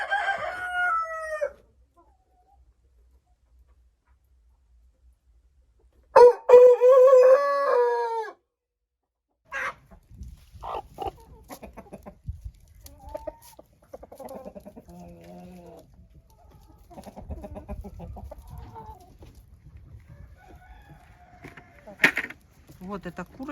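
Rooster crowing loudly twice, once near the start and again around six seconds, with Livensky chintz chickens clucking and scratching nearby in between and afterward.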